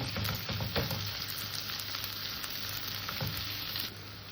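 Chopped onions sizzling steadily in a pan, with a constant crackle and occasional scrape of a stirring spoon, close up and alone.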